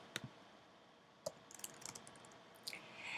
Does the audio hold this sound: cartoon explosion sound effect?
no